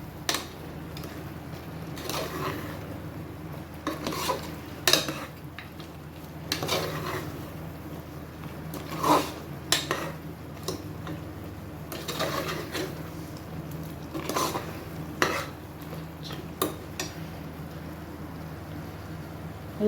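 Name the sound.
stirring mutton kurma masala in a pan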